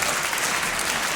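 Dense studio audience applause welcoming Gérard Depardieu onto a 1990 French comedy TV show, a loud, even roar of clapping that fills the whole short stretch without a voice over it.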